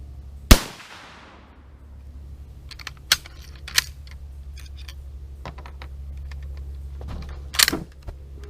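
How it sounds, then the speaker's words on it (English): A Carcano rifle fires a single sharp, loud shot at an outdoor range, its echo trailing off before a low steady hum and scattered small clicks and knocks. "All right, fire whenever you're ready."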